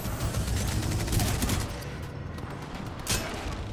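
Rapid automatic gunfire from a weapon in the video game Titanfall 2, loud and sustained bursts with dense crackling shots and a brief pause before another burst near the end.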